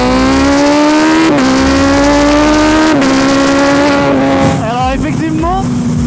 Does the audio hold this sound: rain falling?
no